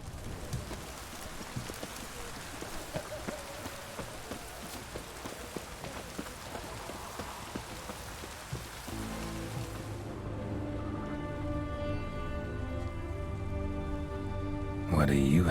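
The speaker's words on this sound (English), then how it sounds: "Rain." Steady rain patters in The Witcher 3 on Nintendo Switch, a dense hiss of drops for most of the stretch, then giving way to a sustained musical tone with faint voices underneath.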